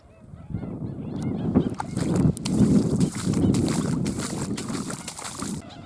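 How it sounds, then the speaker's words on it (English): A flock of geese honks repeatedly at a middle distance, overlapping calls building into a noisy chorus with some rustling movement nearby. "What a bird life around here. Look at them all."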